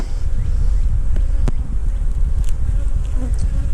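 Honeybees buzz around a nuc hive during a spring hive check, a dense, close swarm of wingbeats with a few louder individual passes, mixed with outdoor wind rumble.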